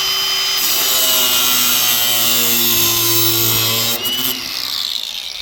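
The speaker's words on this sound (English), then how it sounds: "So I'll just cut that off here with the hand angle grinder." A hand angle grinder cutting through a rubber fuel hose on a McCormick Deering 10-20 tractor, a loud steady close-up whine held for about four seconds before it winds down.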